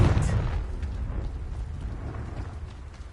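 A Confringo blasting spell explodes in a Harry Potter video game, a loud burst with deep rumbling low end at the start that fades into a sustained boomy roar.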